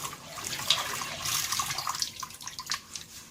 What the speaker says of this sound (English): throw a little cold water after that